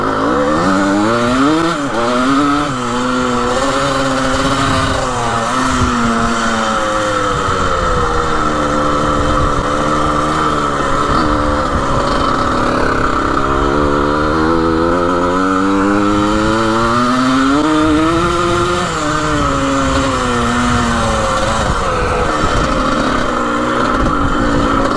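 A rare 1980 vintage racing dirt bike engine running hard, a loud, close, buzzing two-stroke-like whine that rises and falls through gears and revs continuously, slightly boggy in second gear.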